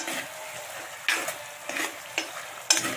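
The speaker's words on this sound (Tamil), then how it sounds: "ஓ, நல்லா கொதிச்சிருக்குது." Steady bubbling hiss of a black chickpea curry simmering in a pot, with a few sharp clinks of a spoon against metal, close and fairly quiet.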